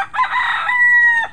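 A pet rooster, one of a flock of hungry backyard chickens, lets out a single loud, close crow lasting over a second, rising and then holding a long, steady note before a short tail.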